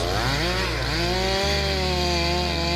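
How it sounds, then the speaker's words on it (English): Large chainsaws cut into massive trees in a dense forest, a loud, close, continuous buzzing whine that bogs down and shifts pitch as the blade bites into the wood. "the lumberjack crew uses large chainsaws to cut down massive trees"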